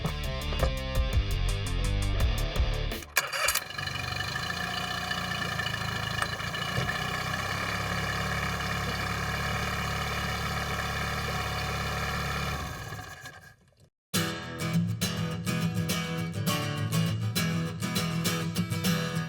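A small outboard boat motor idles steadily for a long stretch with a constant mechanical drone, briefly cutting out, then restarting with a rougher, pulsing rhythm.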